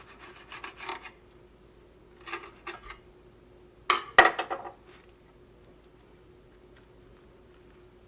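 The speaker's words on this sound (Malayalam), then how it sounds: "ഫ്രൈ ചെയ്ത് വെച്ചേക്കണ നമ്മുടെ ബ്രെഡ് എടുക്കുക. ഇത് നമുക്കൊന്ന് കട്ട് ചെയ്യാം." Fried bread is cut with a knife for a sandwich, giving short crisp rasping scrapes in a few separate bursts, with the loudest cuts near the middle and quiet between them; no voices.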